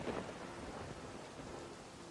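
Soft, steady rain hiss mixed with a low rumble of distant thunder, faint and continuous with no clear breaks.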